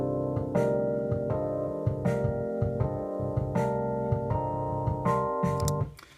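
A chord progression in C Dorian, played as 13th chords with flatted thirds and sevenths, moves in even steps over a drum groove with crisp cymbal and snare hits, then cuts off abruptly near the end, without speech.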